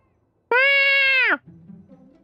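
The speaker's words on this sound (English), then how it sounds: "Paimon never imagined the cats would actually end up taking care of all the customers here at Furball Fortress." A single loud, clear cat meow in the Genshin Impact video game, close and drawn out for nearly a second with a falling end, followed by a soft low murmur.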